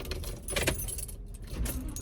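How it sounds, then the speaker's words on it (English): Car keys jangle close up as they are put into a van's ignition, with short bright metallic clinks scattered across a couple of seconds. "van starts better when you have keys in the ignition"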